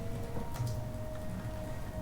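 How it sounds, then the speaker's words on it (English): Steady rain falls outside as background ambience for a tabletop dice game session, a soft continuous patter with faint tapping drops, even and unbroken throughout. "you can hear as well that the rain has started outside"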